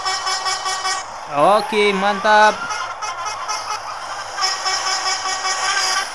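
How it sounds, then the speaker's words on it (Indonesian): Truck horns honk several times in quick succession over a steady engine rumble in a video game, with a brief spoken reply afterward. "Mereka balas klakson kita ternyata teman-teman ya."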